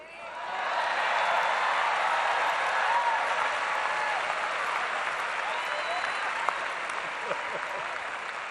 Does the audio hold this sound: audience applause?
yes